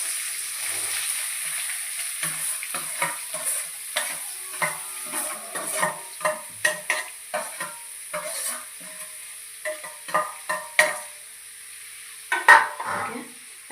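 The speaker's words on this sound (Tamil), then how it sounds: "நல்லா இந்த வெங்காயம் வந்து கோல்டன் ப்ரௌனாக வரணும், அதை நல்லா கிண்டி விட்டுக்கோங்க" Onions sizzle softly in a pan, frying toward golden brown for a chicken gravy, while a utensil stirs them, giving repeated scraping clicks at an uneven rhythm, close up with no talking.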